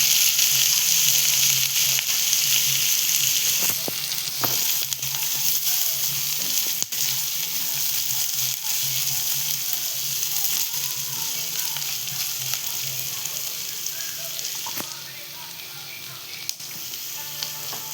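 Onions sautéing in a hot pan for a Marathi monsoon-style birda bhaji, with a steady, loud oil sizzle and crackle throughout and occasional stirring clicks.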